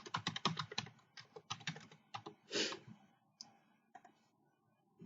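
A password is typed on a computer keyboard in quick bursts of close, crisp key clicks, each burst followed by a short pause. One louder keystroke lands near the middle, and scattered single taps come at the end.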